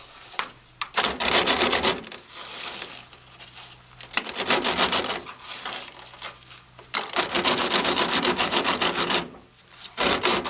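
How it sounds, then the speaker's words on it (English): Rough back-and-forth scraping of a flat metal strike-off plate levelling a gritty surface, in long rasping sawing strokes separated by brief pauses, close by. "Use the strike-off plate to level the surface, and use a sawing motion to produce a smooth surface."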